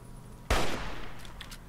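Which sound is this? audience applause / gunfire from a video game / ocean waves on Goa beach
gunfire from a video game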